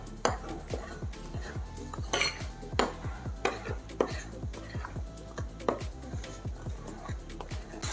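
A spoon stirs muffin batter in a bowl, dry ingredients folded into wet for white chocolate muffins, knocking against the sides in a steady run of close, sharp clinks and scrapes, with no talk.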